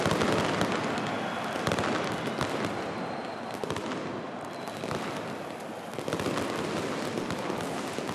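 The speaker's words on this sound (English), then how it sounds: "Seems a strange time for a firework display." Fireworks set off by the crowd inside a football stadium during a Conference League match, a dense stream of crackling bursts and bangs rolling over steady crowd roar throughout.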